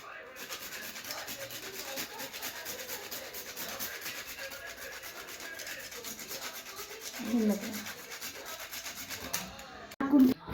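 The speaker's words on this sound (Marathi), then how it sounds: "आता आपल्याला राहिले जायफळ किसून घेऊया छोट्याशा खिसणीने" Nutmeg grated on a small hand grater in a kitchen while making urad dal ladoo, a steady close rasping scrape that runs on without a break and ends with a couple of louder knocks.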